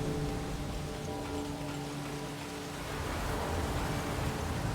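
Steady rain from the video game Resident Evil Revelations hisses evenly throughout, a dense continuous wash of falling water with no talking or breaks.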